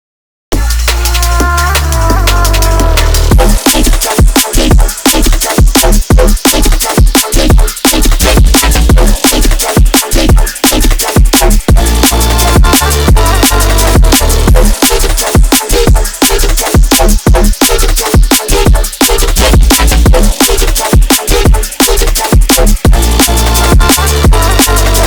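Heavy talking neurobass synth patch built in Serum, playing within a full neurofunk mix: loud, dense, growling vowel-like bass phrases over driving drums, continuous throughout with no talk.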